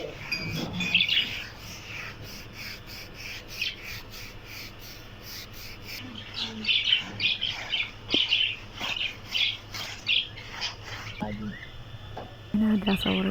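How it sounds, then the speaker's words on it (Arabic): Birds in a backyard enclosure chirp and tweet in scattered bursts, close by, with rustling and scraping sounds and a person talking at times. "هنا دا اصور لكم طيور الحوض"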